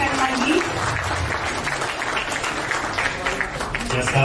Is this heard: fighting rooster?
no